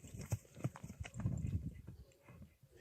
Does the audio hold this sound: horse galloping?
yes